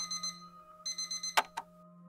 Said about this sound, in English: I woke up to the blare of my alarm.